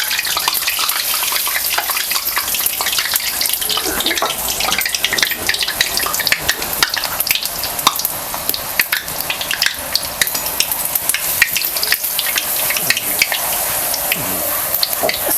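Kadakani, a crisp Maharashtrian fried snack, frying in hot oil until reddish, giving a steady dense bubbling sizzle that runs the whole time with no voices over it.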